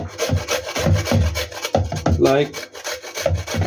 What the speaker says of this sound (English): Ginger we just grind it